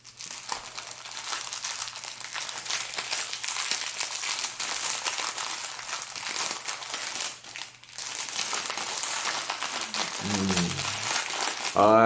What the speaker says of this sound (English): unboxing them, the sound of the crinkling plastic